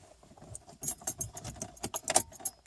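A bunch of keys jangles and rattles near the microphone while a car with a broken clutch cable is being started, the metallic clinks coming in quick irregular bursts over a low vehicle rumble.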